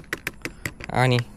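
Quick, irregular metallic clicks and taps from a loose motorcycle part rattle in a loose burst, ending with a brief louder buzzing tone up close.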